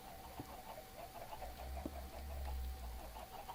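Chickens cluck in a survival video game, a few soft scattered clucks and pecking sounds over a low droning background, fairly quiet and with no talk.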